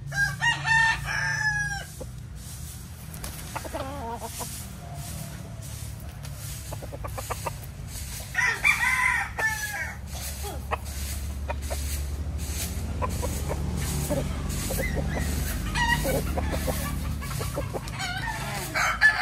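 A pure breed Golden Boy Sweater gamefowl rooster crows nearby several times, its calls mixed with short clucks against a low farmyard rumble and other distant fowl.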